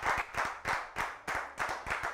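A church congregation claps together in a steady, brisk rhythm, with groups of loud hand claps repeating about every half second and no talking.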